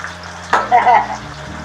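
Bombay duck fish fry in hot oil with a close, crackling sizzle, and a brief voice rises over it partway through.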